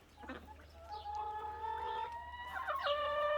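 Chickens and a large rooster in a backyard coop, with clucks and gobbling-like calls rising over a steady low hum, growing busier and louder toward the end.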